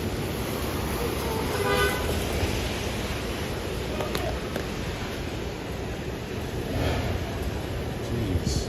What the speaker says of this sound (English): they honk so much for no reason sometimes